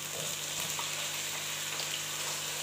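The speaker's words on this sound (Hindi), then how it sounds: "जी तो लहसुन के साथ हमने चिकन को फ्राई कर लिया है।" Chicken pieces frying with garlic and ginger paste in a pan give a continuous soft sizzle with faint crackles throughout, fairly quiet and steady, with no voices.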